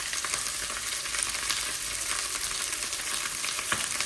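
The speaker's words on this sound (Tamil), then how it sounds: "வெங்காயம் வதங்கட்டும்." Onions sauté with salt in a pan for Sri Lankan kothu roti, giving a steady, moderately quiet sizzle with occasional stirring scrapes and no talking.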